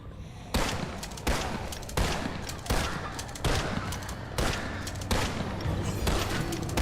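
A weapon in a video game fires in repeated heavy bursts, each starting with a sharp loud crack and trailing into rumbling gunfire. Around eight evenly spaced volleys come close and loud.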